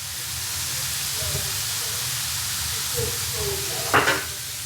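Pepper steak searing undisturbed in a hot pan, a steady, close, bright sizzle and hiss throughout, with a short louder spatter near the end.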